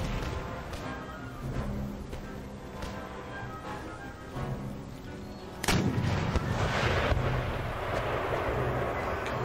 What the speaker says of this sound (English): Pummeling with cannon shot at point blank range.